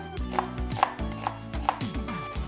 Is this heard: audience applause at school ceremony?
no